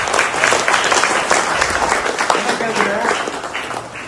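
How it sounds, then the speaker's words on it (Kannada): Audience at a family gathering breaking into sustained applause, many hands clapping loudly and continuously for several seconds, with people talking over it. "ಎಲ್ಲರದ್ದು ಚಪ್ಪಾಳೆ ಚಪ್ಪಾಳೆ."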